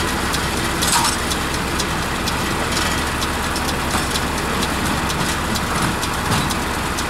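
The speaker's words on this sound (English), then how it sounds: "You see the way the machine is picking it up? The machine is picking it up right there." Round baler picking up and rolling silage grass in a field, a steady, continuous mechanical drone with broadband rumble and hiss that stays constant throughout, no voices.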